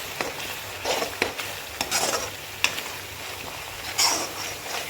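Masala curry being stirred in a pan, with scraping strokes and bursts of sizzle recurring every second or so at moderate loudness, no voices.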